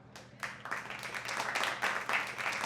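Scattered clapping from an audience at the 2017 Harold W. Wax Outstanding Merit Award ceremony, starting with a few separate claps and filling out into steady moderate applause, heard from a slight distance.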